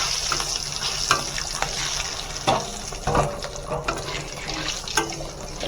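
Bay leaf and cumin frying in hot oil for red lentil khichuri: a steady close sizzle with scattered crackles and the occasional clink of stirring, no voices.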